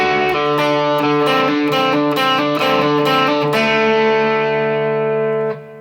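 An electric guitar in standard tuning plays the intro line of a song, fast repeated picked notes with effects and reverb, loud and alone, ending on a ringing note that fades.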